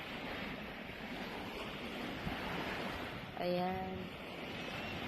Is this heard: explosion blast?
no